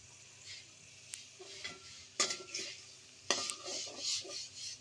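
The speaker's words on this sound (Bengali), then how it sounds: "এই তো আবারও নেড়ে চেড়ে মিশিয়ে নেব সবগুলো।" Cut stinging catfish pieces stirred in a cooking pan, the spoon scraping and clacking against the metal in several distinct strokes, with soft sizzling and frying underneath.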